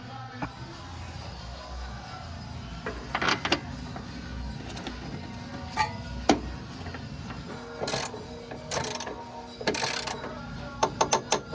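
Bolts being tightened on BC coilovers for a Mazda NA Miata in a garage, with bursts of ratcheting clicks and metallic knocks close by over low background noise.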